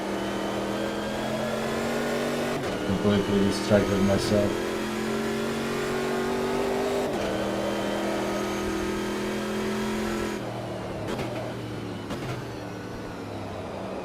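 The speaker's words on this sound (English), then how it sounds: "I let the engine hit the rev limiter" Race car engine in the Automobilista 2 racing game, a steady droning tone that shifts pitch through gear changes and revs, with a voice speaking over it.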